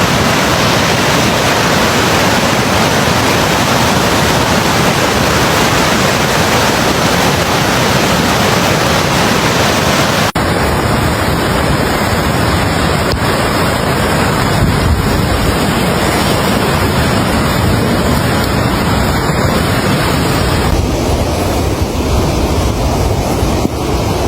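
Floodwater of the Guadalupe River rushing over Nimitz Dam on Guadalupe Street, a loud, continuous, dense roar that stays unbroken throughout with no voices.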